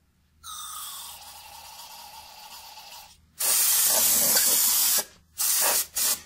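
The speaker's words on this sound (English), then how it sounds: "And I'll even spray in here and get all that gunk out." Aerosol brake cleaner sprayed onto a Ford Mustang rear brake bracket: one long hissing burst, then a louder, harsher blast, and two short sharp spurts, close and alone.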